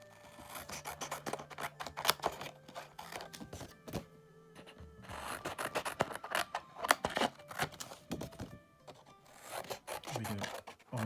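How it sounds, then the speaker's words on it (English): Scissors snip through paper card for a folded diamond card, a series of close, crisp cutting strokes with brief rustling pauses between them. "just cut it off"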